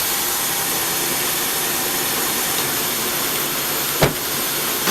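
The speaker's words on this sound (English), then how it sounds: "So you can see that the engine is shaking real bad." A Honda Accord V6 with a bad ignition coil idles rough and misfiring, a steady broadband hiss and rumble at close range with a single sharp knock near the end.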